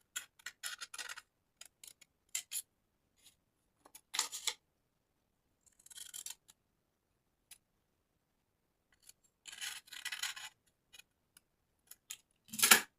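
Scissors cut through fabric or pattern paper for a keyhole-neckline gown in short separate snips and longer slicing runs, close and crisp with silent pauses between, no voices.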